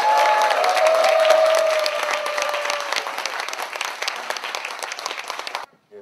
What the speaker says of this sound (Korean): 경북도당 당원 여러분들의 힘찬 함성과 격려의 박수로 시작하도록 하겠습니다